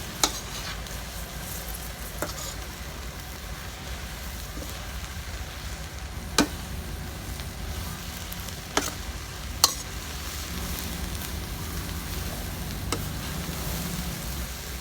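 Grasshoppers stir-fried in a pan, a steady low sizzle and crackle running throughout with occasional sharp pops and scrapes, heard alone at moderate volume.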